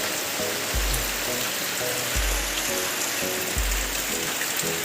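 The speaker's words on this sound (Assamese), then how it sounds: "পূৰা বৰষুণ দি আছে এতিয়া।" Heavy rain pours steadily outside a home, a dense continuous wash of falling water with no voices, broken only by a few low soft thuds in the background.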